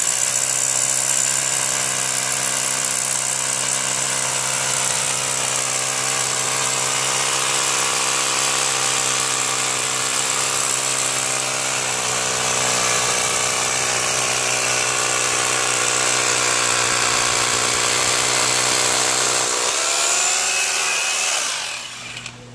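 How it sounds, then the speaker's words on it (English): A steady, loud hammer drill whine with strong harmonic hum, drilling into a concrete floor with a masonry bit, runs continuously for about twenty seconds, shifting pitch briefly near the end before stopping. "Then using the masonry driver, we'll drill our hole."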